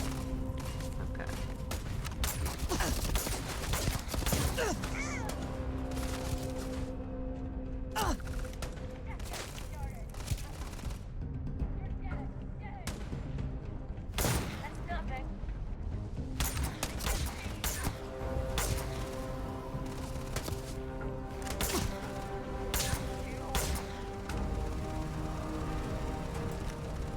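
Gunfire in the space game Starfield, with repeated bursts and single shots cracking through a dense combat soundscape over a long stretch, and a player talking over parts of it.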